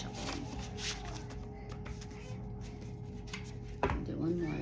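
A deck of tarot cards is shuffled in a quiet room, with soft, steady riffling and rustling close by and a sharper knock near the end.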